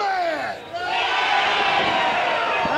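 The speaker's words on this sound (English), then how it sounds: "crowd definitely behind Rhino in this particular matchup" Pro wrestling arena crowd roaring and cheering for Rhino during his match against Keith Walker, a loud continuous wall of voices with whoops rising near the end.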